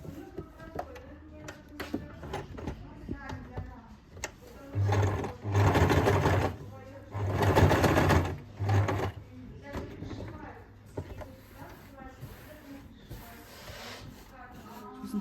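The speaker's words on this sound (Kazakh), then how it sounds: "Осылай тігесіздер зигзагпен." Sewing machine running a zigzag stitch across a quilt, motor whirring in bursts that start and stop at close range, with quiet talk between the runs of stitching.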